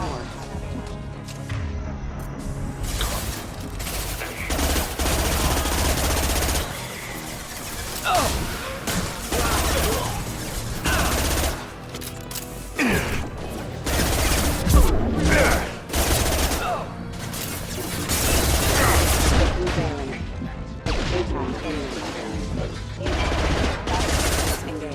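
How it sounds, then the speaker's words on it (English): Rapid high-impact rifle fire in Mass Effect 2, a loud, dense string of sharp shots and crashes over about twenty-five seconds, with a voice talking over the gunfire. "Firing a high impact shot."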